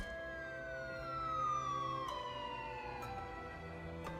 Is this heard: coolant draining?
no